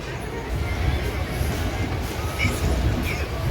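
Mahalaxmi Express standing briefly at platform one of Sangli station: a steady, loud rail rumble with broadband clatter throughout, and voices faintly mixed in.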